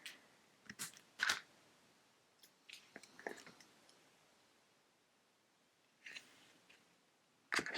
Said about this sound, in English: So I could actually snip off some.